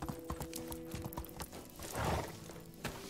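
A horse's hooves clip-clop in a steady, fairly quiet rhythm in the Medieval Dynasty video game, with a soft swell of movement partway through.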